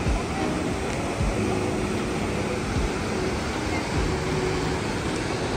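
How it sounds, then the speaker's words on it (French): Steady roar of rushing water from waterfalls near Vancouver, heard from above, a continuous broadband wash with no pauses. "on est au-dessus des cascades"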